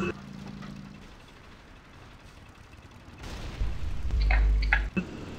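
Cannon fire in an online video game, with heavy booming blasts toward the end after quieter mechanical clatter and low rumbling.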